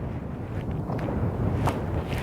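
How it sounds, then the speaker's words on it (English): Gusty wind buffets the microphone during a descent from Mount Belford in Colorado's Sawatch Range, a dense, continuous rush with faint footsteps, no talk. "Wind's picking up a little bit."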